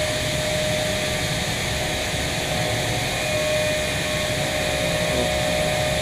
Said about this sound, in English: Put the vacuum on for a minute.